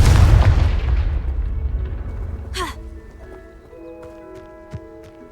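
Confringo fire spell from Hogwarts Legacy going off as a loud, heavy explosive boom that rumbles and slowly fades, followed by faint game effects and small clicks in the quiet after.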